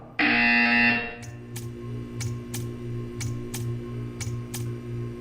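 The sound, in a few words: buzzer in the video game Portal 2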